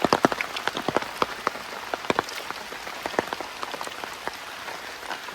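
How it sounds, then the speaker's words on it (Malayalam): Heavy rain falling in a forest during a trek, a dense steady patter with sharp close drops striking leaves and surfaces, loud and without any voices. "ഇടയ്ക്കൊന്ന് മാറിയിട്ട് മഴ വീണ്ടും ശക്തിയായേ"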